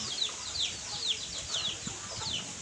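Several birds cluck and chirp in quick, overlapping bursts, fairly close, with steady low background noise and no talking.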